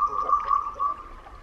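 A male ruddy duck gives a brief, bubbling, gurgling mating call with a steady tonal hum running through it, heard up close.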